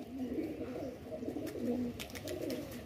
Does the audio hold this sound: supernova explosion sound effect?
no